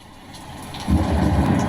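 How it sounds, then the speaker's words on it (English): Rain nature sound played from a Soundcore speaker, a steady hiss of falling rain with a low rumbling surge that swells partway through, close and continuous. "The rain."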